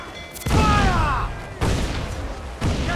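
Ship cannons fire during a naval fight in Assassin's Creed 4 Black Flag: three loud, evenly spaced booms about a second apart, each with a sharp crack and rolling low rumble, a brief shout between them.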